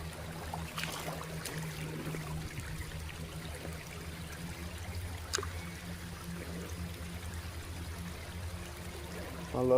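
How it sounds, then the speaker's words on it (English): Creek water runs steadily over rocks in an Alabama creek, a soft continuous trickle and burble with occasional small splashes, heard close and alone without talk. "I love the way this water's just flowing over these rocks here."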